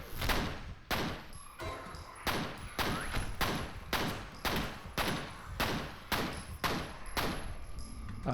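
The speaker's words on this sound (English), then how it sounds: "I just had to shoot enough times" Gunfire in the video game F.E.A.R. cracks out in a steady, evenly spaced string of loud shots, roughly two per second, each with a sharp attack and a short ringing tail.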